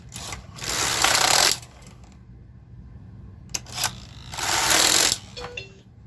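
A knitting machine carriage is pushed across a row of a red sweater, giving two loud mechanical rasping passes separated by a quieter pause, with a couple of small clicks near the end.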